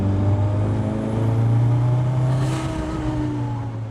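Kimera EVO37 supercar driving, its engine loud and close with a steady drone that swells slightly mid-clip before easing, no voices over it.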